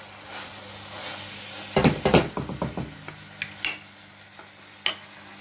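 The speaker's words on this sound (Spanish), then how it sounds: "A continuación le echaremos el vino de Rioja añejo y los rubellones" Aged Rioja wine and rubellones mushrooms hit a hot pan while cooking a shoulder of lamb or roe deer, giving a sudden burst of sizzling with clattering stirring knocks and a few sharp clinks afterward, close and fairly loud.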